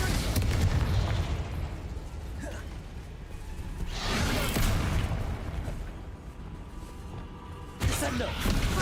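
Spell explosions cast in Hogwarts Legacy erupt as two heavy whooshing blasts, one midway and one near the end, over a constant loud bed of game noise and rumble.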